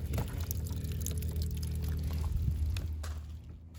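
Pink RV antifreeze runs from a camper faucet while winterizing the water lines, a steady close pouring and splashing rush that holds for several seconds and then cuts off near the end.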